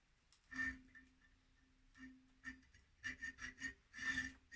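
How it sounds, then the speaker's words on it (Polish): Quiet, rhythmic rasping strokes of a hacksaw cutting steel, in short bursts that speed up toward the end, with no talking. "Brzeszczotem najlepiej ciąć w jedną stronę"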